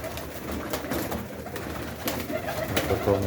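Several pigeons coo softly and repeatedly nearby in a dovecote, overlapping low throaty calls over faint background noise.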